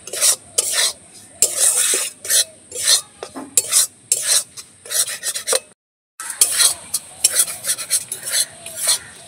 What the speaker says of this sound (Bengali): এবার আমি এইখানে সুজিটা দিয়ে দেবো, সুজিটা এর সাথে একটু ভেজে নেবো।